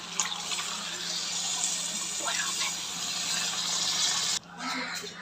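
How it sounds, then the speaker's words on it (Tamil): Water pours steadily into a pot of mutton potato curry, a continuous gushing rush lasting several seconds before cutting off abruptly near the end. "இப்போ தண்ணி ஊற்றிக்கலாம்."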